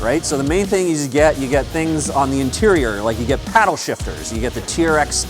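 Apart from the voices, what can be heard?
No distinct noise like a dog, phone or traffic.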